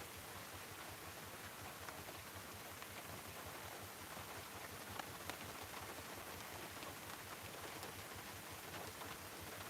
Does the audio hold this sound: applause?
no